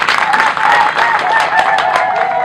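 Sustained, close audience clapping at a district headquarters construction launch in Arua, Uganda, honouring the Chief Administrative Officer, with a few voices audible under the claps.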